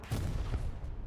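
A dense, rumbling barrage of explosions from a bombing run at night in Hell Let Loose, booming continuously with overlapping low thuds and no clear gaps.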